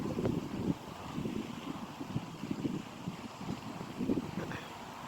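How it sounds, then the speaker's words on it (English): Steady wind buffets the microphone with low rumbling gusts that rise and fall throughout, no voices present. "It's a windy day"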